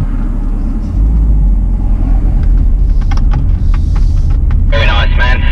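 A BMW M car on the Bedford Autodrome track with a loud, steady engine roar and low rumble as it begins a donut, rising slightly in intensity, with a brief burst of tyre hiss near the end and a voice speaking faintly over it.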